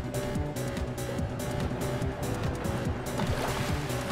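A motor-driven propeller speedboat built in the Main Assembly video game runs on water, a steady droning engine hum with rhythmic churning and splashing, loud and continuous with no talk.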